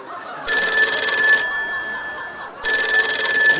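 A telephone rings in two loud, bright electronic bursts separated by a short pause, and nobody answers.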